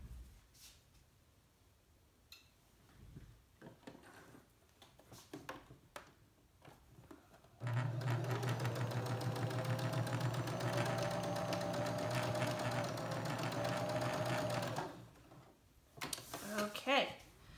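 A sewing machine runs steadily for several seconds, stitching fabric scraps into yardage, loud and close, with handling noises and a voice before and after.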